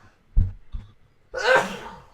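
A couple of short sharp inhales, a pause, then one forceful explosive sneeze up close.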